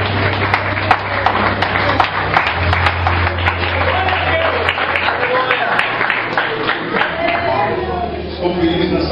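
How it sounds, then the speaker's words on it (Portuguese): Pentecostal church congregation applauding during a Sunday evening service, sustained crisp clapping over a low droning hum, with voices faintly mixed in throughout. "E você se assenta aplaudindo o nome do Senhor."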